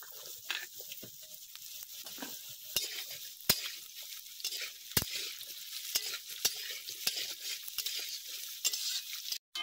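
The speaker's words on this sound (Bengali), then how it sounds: "প্রথমে আমি কেটে রাখা আলুগুলো ভেজে নেব।" Cut potatoes and carrots frying in a pan, with a steady hiss and crackle broken by sharp stirring clicks and scrapes of the spoon, recorded close with no talking.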